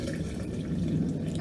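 Water pours into a blender jar over ground turmeric, tamarind and spices for jamu juice, a short, steady, close splashing flow with light dripping, no talk over it.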